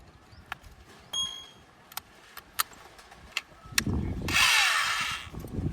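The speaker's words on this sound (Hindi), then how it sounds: "इस स्क्रू को जो है यहाँ पे इसे ड्रिल मशीन से जो है ना उसे टाइट कर लेंगे" A power drill drives a screw tight into a mounting bracket. Scattered sharp clicks and taps come first, then a short, loud whirring burst of the drill close by near the end.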